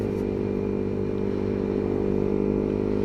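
A Yamaha MT125 motorcycle engine runs steadily at a constant rev, a close, even drone with no talking.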